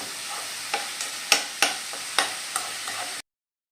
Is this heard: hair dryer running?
no